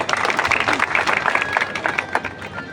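A crowd at a Koli Samaj community gathering in Una claps vigorously to welcome a Gujarat state minister, a dense, steady patter of hands with some crowd noise mixed in.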